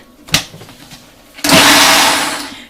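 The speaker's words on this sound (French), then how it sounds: "j'ai mis dans mon blender avec tout l'ananas que j'ai égoutté" A sharp click, then a blender mixing pineapple starts up loudly and whirs steadily for about a second, its motor gradually easing.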